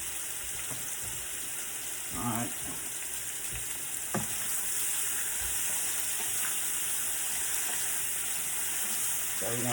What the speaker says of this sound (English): to get these shrimp a good stir fry.